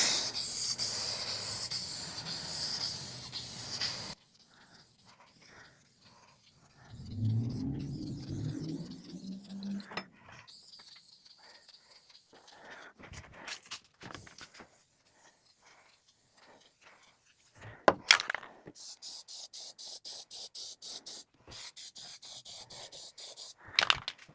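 A shellac and lacquer finish is sprayed onto wooden Christmas tree decor, opening with a few seconds of steady close hiss, followed by scattered rubbing, handling and scraping noises with quieter gaps in between.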